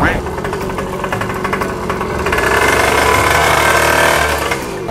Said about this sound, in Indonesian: lah suara motor siapa tuh?